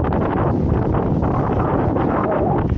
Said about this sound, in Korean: 바람 소리가 어떻게 들릴지 모르겠다